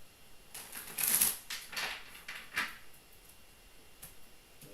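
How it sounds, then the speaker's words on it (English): Tarot cards being shuffled by hand, a few quick riffling flutters and papery snaps in short bursts near the mic, then quiet. "One more shuffle."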